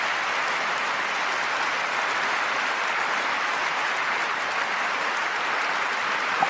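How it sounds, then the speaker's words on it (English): Sustained audience applause fills a large hall during a speech on girls' education, a dense, even wash of many hands clapping with no pauses or voices, steady and loud throughout. "As you can see, half of the speech was applause."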